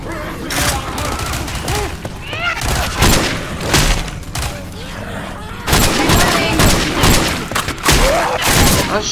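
Loud, dense gunfire from the game Left 4 Dead 2, with repeated bursts of shots and heavy thumps close up, while players talk over the action.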